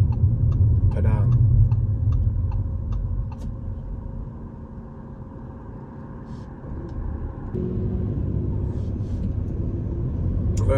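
Car driving along a Singapore city street near the Padang and Stamford Road on the Formula 1 circuit, a steady low engine and road rumble with faint ticking, heard from inside the cabin.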